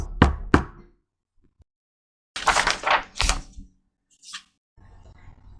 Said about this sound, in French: Il frappe à la porte de la commission de l'enfance.